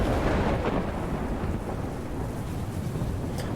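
A thunderstorm in the video game Life is Strange: a continuous loud wash of rain and rumbling thunder with no pauses, and a faint crackle near the end.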